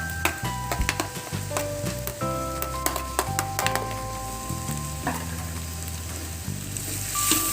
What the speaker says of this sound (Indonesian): Kita aduk-aduk dan kita masak sampai oncom ini matang.